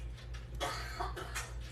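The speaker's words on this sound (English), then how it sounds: "I hear his sniffling and coughing." A sick man coughs a few times from another room in a house, faint and muffled over a steady low hum, with a brief sniffle between the coughs.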